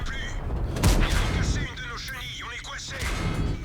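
Artillery fire in World of Tanks lands as a heavy boom with a sharp crack, followed by rumbling impacts, while someone talks over the action.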